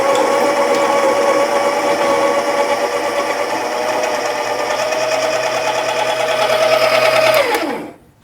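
A grinder whirs steadily with a high, even motor whine, then winds down and stops near the end.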